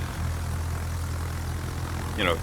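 Carrier-plane engines from World of Warships drone steadily at a moderate level, a low propeller hum throughout with a brief rising whoosh near the end.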